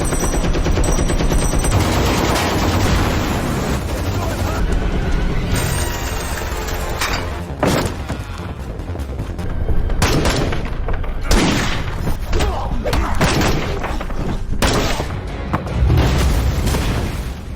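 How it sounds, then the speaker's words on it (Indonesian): A chaotic exchange of gunfire: bursts of shots and heavy booms overlap in loud, dense volleys with brief lulls. "Kemudian Thomas CS mulai menyerang Jack hingga terjadi lagi aksi tembak-tembakan."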